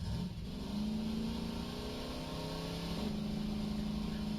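A steady engine drone with a low, sustained hum that rises slightly in pitch, playing continuously at moderate volume with no voices.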